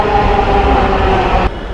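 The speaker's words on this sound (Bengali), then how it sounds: "এই হচ্ছে মেট্রো স্টেশন।" Train at a Dhaka metro station, a steady broad rumble of rolling carriages close by that cuts off abruptly near the end, with no talking.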